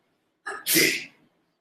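A single sneeze, a short sharp breath in followed by a loud burst of air, heard close and alone with silence around it.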